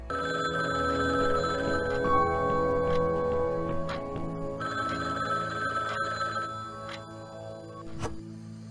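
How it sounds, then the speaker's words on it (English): A telephone ringing in the horror video game Downfall (2016), repeated electronic bell tones sounding over a steady droning ambient background, with the ringing stopping near the end. "As you walk back out, you hear a phone ringing."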